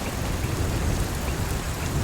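A heavy jungle rainstorm pours down in a dense, continuous roar of rain with a deep low rumble underneath, loud and steady throughout.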